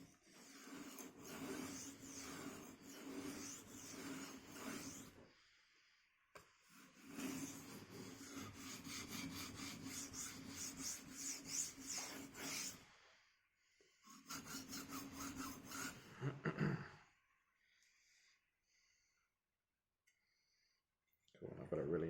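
Knife blade stroked across a finishing stone at night, rhythmic close scraping in three long bursts separated by quiet pauses.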